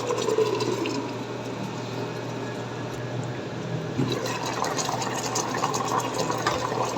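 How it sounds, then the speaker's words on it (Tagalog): Coconut milk sauce with tuna bubbling in a pot, a continuous watery bubbling and hissing boil, steady and close, with no talk. "konting kulo na lang guys para maluto lang yung gata niya. Kulong-kulo na."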